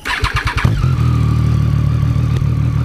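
A motorcycle engine cranks with a few rhythmic starter pulses, catches and settles into a steady, close idle that runs unbroken to the end, with no talking.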